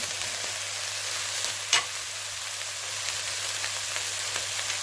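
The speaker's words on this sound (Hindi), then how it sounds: "हमने प्याज ऐड करके इसे 2 मिनट भून लिया" Finely chopped onions fry in a pan for a qeema naan stuffing, giving a steady, fairly quiet sizzle throughout with one brief stirring scrape near the middle and no voices.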